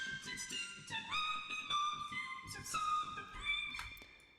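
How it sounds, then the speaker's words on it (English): A vocal line pitched up three octaves into a thin, chipmunk-like register, with choppy sliding notes that stop and start over a quiet backing, close and fairly soft. "voice pitched 3 octaves higher."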